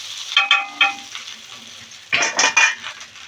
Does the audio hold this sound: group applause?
no